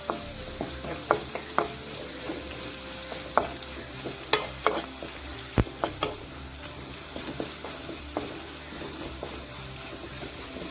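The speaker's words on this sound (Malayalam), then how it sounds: "ഇതിൻ്റെ കളറൊന്ന് മാറിയതിന് ശേഷം വറ്റൽമുളക് ഇട്ട് കൊടുക്കാം." Dry red chillies and curry leaves frying in oil in a pan over a low flame for Kerala-style puli inji, with a steady sizzle, scattered crackles, and spoon stirring clinks, no talking.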